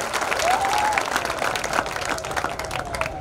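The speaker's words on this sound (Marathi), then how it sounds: "आपण टाळ्या वाजून सावरकरांच्या या अभियानाला" A large crowd at a Shiv Jayanti gathering in Karad applauds loudly and steadily for about three seconds, a dense wash of claps with a faint tonal whistle briefly rising above it.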